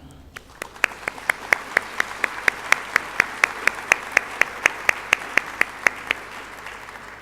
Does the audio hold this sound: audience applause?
yes